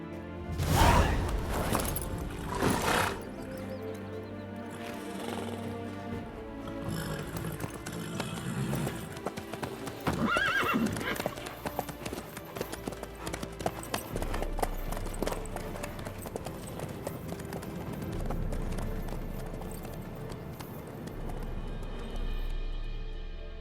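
Horse hooves clip-clop on the ground in The Witcher 3, a steady rhythmic trotting running through the whole stretch alongside game music and ambient noise, with a louder clatter of hits at the start.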